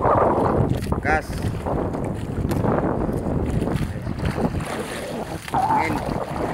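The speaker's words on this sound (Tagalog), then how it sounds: "Lakas ang hangin, ang amihan." Heavy wind at sea aboard a small fishing boat during the amihan monsoon, a continuous roaring rush with water sloshing and creaks. Someone speaks intermittently over the blustery noise.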